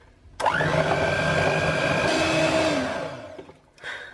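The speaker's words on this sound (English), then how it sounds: "get the last little bit of mascarpone in, and we'll give it a final whisk through" An electric mixer whips mascarpone cream for a strawberry dessert filling, a steady loud motor whine that starts abruptly, holds for a few seconds, then winds down.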